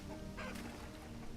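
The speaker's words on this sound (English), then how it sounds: "Come on, chickens." Chickens cluck in the Vintage Story video game, a few short fowl calls over a steady low in-game ambient hum, moderately close and fairly quiet.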